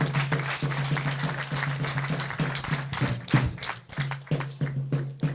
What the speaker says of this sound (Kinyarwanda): Iryo shuri muri mpera amashyi.